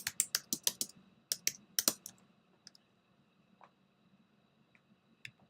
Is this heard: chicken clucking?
no